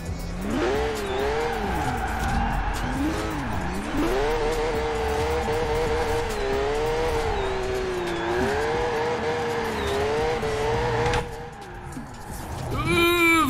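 A Toyota GT86 races in the video game Forza Horizon 4, its engine revving and wavering in pitch through gear changes with tires squealing, before a sudden crash and a burst of renewed revving at the end.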